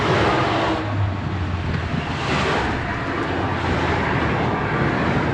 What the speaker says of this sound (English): I don't know if you can hear that, but the passing cars.